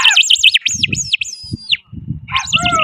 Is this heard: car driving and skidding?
no